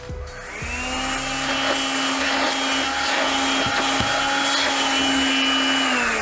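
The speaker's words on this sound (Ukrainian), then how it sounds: "бачимо, що в робочому режимі пилосос може не лише збирати пил" Makita CL121DWA cordless battery vacuum cleaner starting up and then running steadily, a loud continuous motor whine with a high hum, close by, with no talk.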